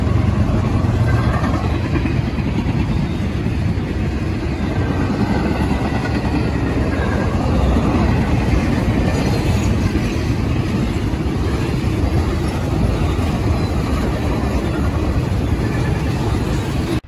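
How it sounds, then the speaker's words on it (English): A CSX freight train rolls steadily past on the tracks, a loud, continuous rumble with rhythmic wheel clatter sustained throughout, no voices over it. "here comes the train. I think it's Q009"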